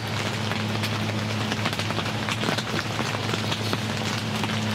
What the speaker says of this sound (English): And anticipation of a lot of rain today, which it's here.